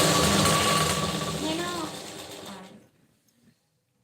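A sewing machine runs fast and steadily while stitching a size 36 blouse, a close, continuous mechanical whir that slows and stops after nearly three seconds, leaving near silence.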